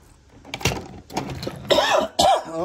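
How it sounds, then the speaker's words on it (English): A few rough coughs and throat-clearing sounds from the animated race car Lightning McQueen, close to the mic, in short bursts with brief pauses between them. "I have a cough."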